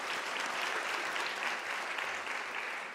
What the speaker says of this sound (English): Once again, let's give them a round of applause for overcoming this.